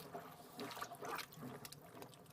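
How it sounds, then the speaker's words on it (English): Techniice dry ice pack sheets are scrunched under water, giving soft continuous bubbling and trickling as air escapes, faint and close. "you just scrunch them up under the water like that. And the water will go in, the air bubbles will come out"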